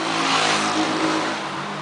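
A car drives past on a dark road, a broad engine rumble with a rising whoosh that stays loud and close throughout, with no talking.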